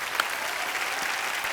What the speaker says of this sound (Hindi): इसके लिए जोरदार तालियां बनती हैं